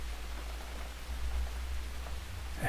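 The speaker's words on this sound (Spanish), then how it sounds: "Escucha el sonido de la lluvia." Steady soft rain falling, a faint even hiss with light patter and a low constant rumble beneath, no voices.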